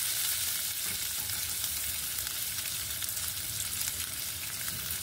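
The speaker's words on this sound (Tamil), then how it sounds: "ரொம்ப கிண்டுற மாதிரி தெரியும்." Tomato chutney cooks in a pan, giving a continuous dense hiss of frying that stays steady and fairly loud throughout, with faint stirring movements blended in.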